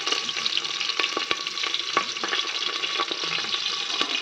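Garlic and green chilies fry in a pan with a steady, close sizzle and bursts of spitting crackle, alone with no voices.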